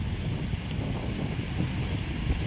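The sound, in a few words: strong wind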